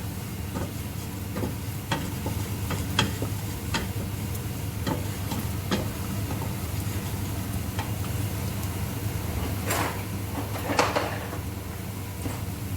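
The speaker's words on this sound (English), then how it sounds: "You're just trying to cook out the spices a bit to get that flavour" Spices cooking in oil in a pan for a vegetable curry, a steady low sizzle with scattered soft ticks and clinks of stirring, fairly close and alone.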